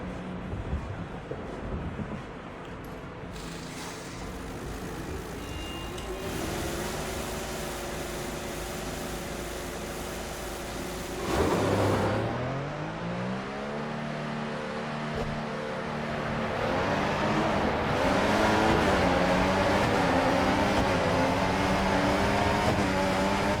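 A Formula 1 car in the F1 2014 video game pulls away, its high-pitched engine whining steadily, then dropping in pitch at a gear change before climbing again through the gears, loud and close throughout.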